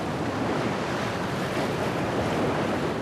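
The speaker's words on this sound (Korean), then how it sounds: "그런데 갑자기 바다가 거칠어지기 시작합니다." Rough sea surging around a small boat, a dense, continuous roar of waves and wind buffeting the microphone, loud and unbroken throughout with no voices.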